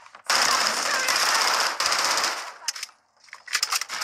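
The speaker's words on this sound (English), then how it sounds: "Taking effective fire! Woo! We're taking shots." Automatic gunfire in the video game Modern Warfare 3 rattles loud and close in long rapid bursts, breaks off briefly, then returns in shorter volleys, with no talk over it.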